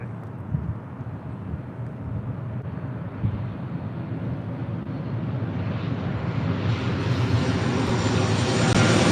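A jet airliner departs LAX, its engine roar broad and steady, swelling louder and brighter toward the end as it climbs away.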